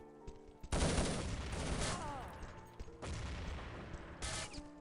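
Rapid gunfire bursts in a competitive online shooter match between national teams, Nordic versus Poland, with heavy volleys of shots followed by a lull and then renewed firing, close and loud, with faint commentary underneath.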